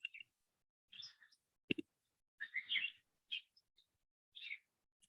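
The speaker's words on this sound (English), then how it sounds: "it sounds like you've got a little bit of a little bird sanctuary in your backyard" Small birds chirp in a quiet backyard, with a handful of faint, scattered short calls and tweets separated by silence, including one sharper click-like note.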